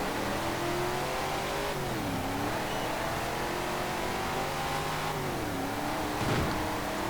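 A Mustang muscle car engine in Forza Horizon 4 drones steadily with revs rising and dropping through gear shifts, a continuous racing-game engine tone with no voices.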